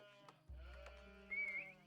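A sheep in a real-time strategy video game gives a short, clear bleat, a single wavering cry lasting about a second, loud and close, with no speech.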